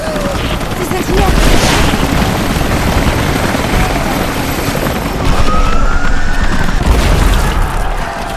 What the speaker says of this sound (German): Die Helikopter sind gerade da rein.